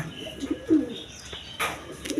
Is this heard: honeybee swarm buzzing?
no